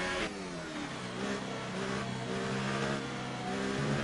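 McLaren Formula 1 car engine in an F1 2018 racing game, a loud continuous high-revving whine with rising and falling gear sweeps, close and steady, no voices.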